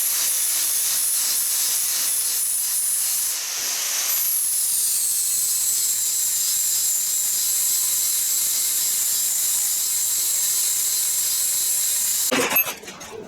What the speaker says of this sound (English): I'm going to use something a bit heavier to weld together, though.